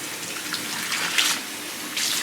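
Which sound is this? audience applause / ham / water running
water running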